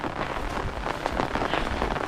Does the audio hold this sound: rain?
yes